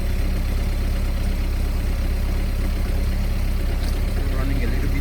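A cold Mahindra ROXOR engine, not run for a couple of days, idles just after startup with a steady, close, even rumble and no talking.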